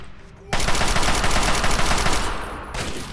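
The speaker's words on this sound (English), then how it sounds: "Let's go with the Chinese assault rifle" A Chinese assault rifle fires a loud, sustained automatic burst in Fallout 3, rapid shots running for over two seconds before a brief break and a final short volley.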